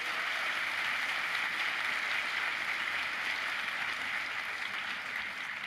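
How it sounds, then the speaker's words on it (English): An audience at a university opening day address applauds in a steady, continuous wash of distant claps that holds evenly and fairly faint throughout without any talk. "Let's give them a round of applause."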